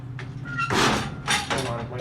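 Sliding gate door of a gated traction elevator in a building at 1009 Davis, Evanston, Illinois, moving in two rattling, scraping surges close by, with faint voices in the background.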